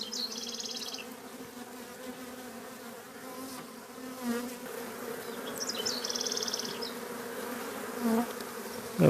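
Honey bees buzz around an opened hive, a continuous close drone with swelling passes as individual bees fly near.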